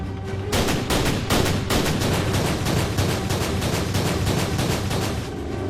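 WW2 submarine deck gun crews firing in battle, dense bursts of rapid gunfire and booming shots that crack one after another over a rumbling background, loud and continuous for several seconds.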